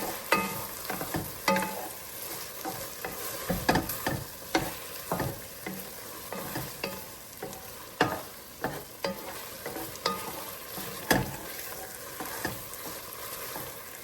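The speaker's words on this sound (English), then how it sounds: "Now I'll stir this around." Honey stirred in a hot pan for cilantro lime chicken, with irregular, close clicks and scrapes of a utensil over a low, continuous sizzle and no talking.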